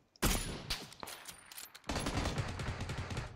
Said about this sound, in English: I'm taking shots at guys on top of the hill.